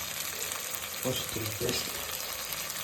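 Ginger garlic paste and onions sauté in a pan for a mushroom pepper fry, giving a steady close sizzle with a couple of brief stirring scrapes midway; no one talks.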